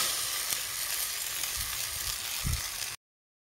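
Masoor lentil paste fries with soft fried potatoes in a pan, giving a steady close sizzle with a few soft stirring knocks before it cuts to silence.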